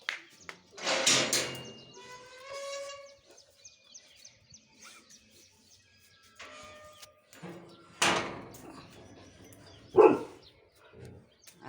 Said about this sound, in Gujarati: જો આ કૂતરાઓ આવ્યા છે ખાવા.